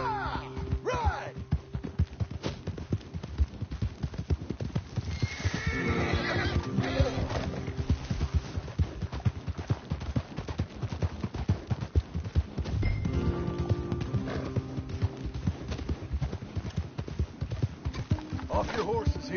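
Horses in a video game clip-clop in a steady rhythm with a couple of whinnies, close by, while voices talk over the hoofbeats.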